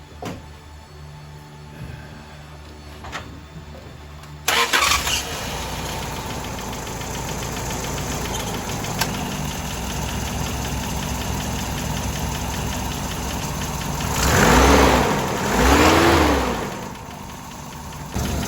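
A 1985 Toyota SR-5 pickup's 22RE engine, with a faulty PCV valve, cranks and catches, then settles into a steady, slightly uneven idle with a couple of swelling revs near the end.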